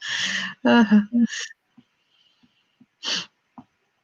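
A sharp, close sneeze bursts out, followed by a brief voiced exclamation and a few faint clicks and sniffs, then a short breathy burst.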